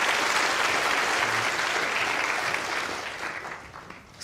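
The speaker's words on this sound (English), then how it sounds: "a round of applause for our animal handlers" A lecture-theatre audience at a science talk claps steadily, the dense applause holding strong before thinning and fading toward the end.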